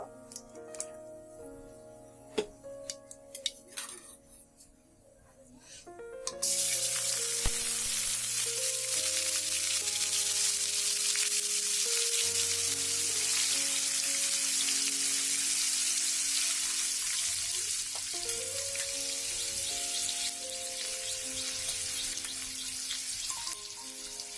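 Ground bish kochu (taro) hits hot oil in a pan. A few light clinks come first, then a sudden loud, steady sizzle and crackle fills the rest, close and unbroken.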